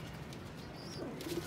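Ferozpuri pigeon giving a soft, low coo near the end of a short stretch, faint over a steady background hiss.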